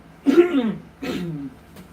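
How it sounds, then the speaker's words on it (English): A man who smokes clears his throat twice, each a harsh, close, rasping rumble, followed by a faint brief click. "I am not coughing but clearing my throat constantly"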